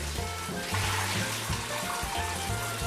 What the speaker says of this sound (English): Then we clean the shrimp under running water and repeat this for a few times